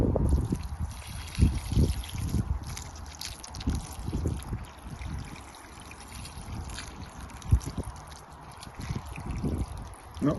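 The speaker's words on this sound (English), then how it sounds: "And then give this a water, one-handed." Water trickles and splashes as garden plants are watered by hand in a UK garden in October, with intermittent pouring bursts and drips at close range and no talk.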